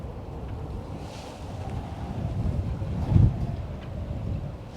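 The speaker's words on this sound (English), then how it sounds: "I don't know if you can hear the wind picking up." Wind picking up at a seaside harbour, a low continuous rumble and buffeting across the microphone that swells briefly before easing.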